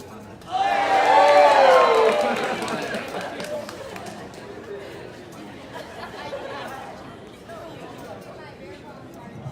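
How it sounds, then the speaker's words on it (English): Audience at a school dance and culture show bursting into loud applause and cheers that swell quickly, peak, then taper into lingering crowd chatter and scattered claps. "That's like the biggest applause we had all day."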